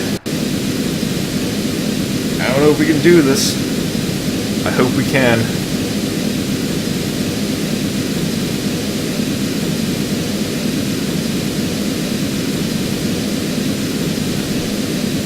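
Steady, broad roaring rush of rocket engines in the video game Kerbal Space Program, constant and loud throughout, with a person talking briefly over it near the start.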